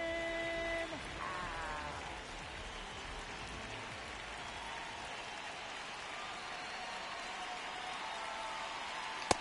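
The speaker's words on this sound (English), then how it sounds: "It feels like we might be headed towards a rain delay if the weather doesn't ease up, Chris." Steady rain falls on a ballpark in the baseball video game MLB The Show 26, a continuous hiss with faint crowd noise beneath it and a brief tone at the very start.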